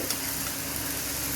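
Spices with turmeric and dried red chilli sizzle steadily in hot oil in a pan, a close, continuous crackling hiss with no talk.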